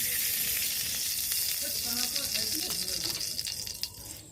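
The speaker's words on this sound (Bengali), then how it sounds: "কড়াইটা গরম হয়ে গেলে আমরা অল্প একটু পরিমাণ ঘি দিয়ে দেবো।" Ghee sizzles in a hot wok, a steady bright hiss that fills the clip with small crackles and light clinks rising through it.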